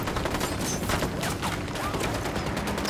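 Dense gunfire from Ghost Recon Wildlands, a video game, crackles in rapid overlapping bursts like a firefight, loud and continuous over a noisy battle background with no clear pauses.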